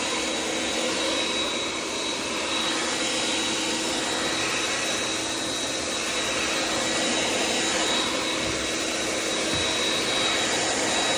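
A shop vacuum sucks up floor wax with a loud, continuous roaring rush of air that holds steady from start to finish, with no talk.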